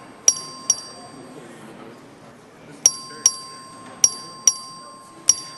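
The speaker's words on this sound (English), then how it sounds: "The clerk ring the bell." A clerk rings the record-vote bell in a state legislative chamber: crisp, ringing dings struck in quick pairs, repeated several times over a low murmur of room noise.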